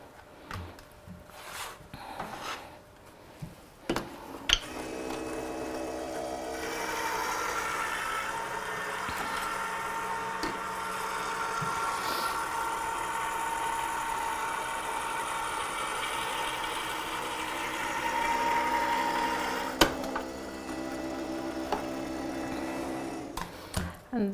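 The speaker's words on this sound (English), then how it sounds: "I'm going to run this through a cutting machine." An electronic die-cutting machine running card stock hums steadily for most of the clip after a few faint clicks, with a brief mechanical clunk at the end.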